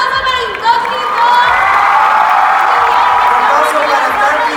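A crowd at a church youth event at Casa de Dios in Guatemala cheers, whoops and claps loudly for a performing group, the sustained roar and applause rising after a brief dip and holding strong to the end.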